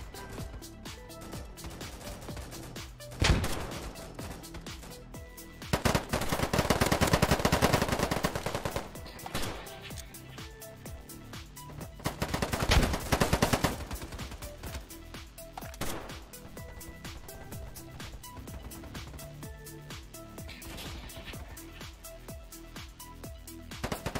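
AK rifle firing in a first-person tactical video game, with repeated bursts of automatic gunfire, two longer sustained volleys and scattered single shots against quieter background sound, and no talking.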